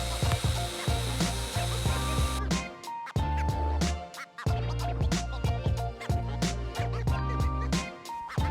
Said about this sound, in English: Next, I switch over to random orbital mode and run a 220 grit on the entire door.